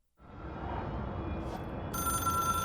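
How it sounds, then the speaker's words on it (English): A telephone bell rings steadily, loud and close, starting after a brief silence and continuing as a sustained ringing tone throughout with a brighter, higher layer joining near the end. "It is a phone."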